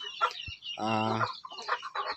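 A broody mother hen near her eggs gives a few close, short clucks, then a drawn-out, throaty cackle before more brief clucks, loud and nearby.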